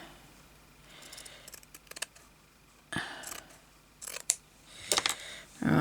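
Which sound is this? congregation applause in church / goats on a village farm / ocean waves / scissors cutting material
scissors cutting material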